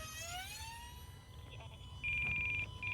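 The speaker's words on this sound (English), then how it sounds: "The telemetry warning that you're hearing is because I have a pack." Beneath low rumbling wind, a steady electronic low-voltage telemetry warning beep from an E-flite A-10 UMX Thunderbolt II RC plane sounds in repeated bursts near the end.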